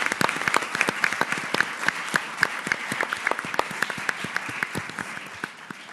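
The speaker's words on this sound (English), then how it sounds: "please give all 4 finalists a round of applause" An audience gives a sustained round of applause for four finalists at a tourism ambassador speaking competition: many hands clapping steadily and fairly close, with a few sharper individual claps standing out.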